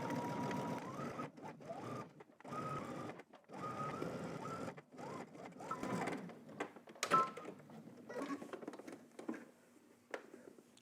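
A sewing machine stitches in the ditch along a utility jacket placket, catching the fold underneath; the motor runs in repeated short bursts separated by brief pauses, with a few light clicks and no talk.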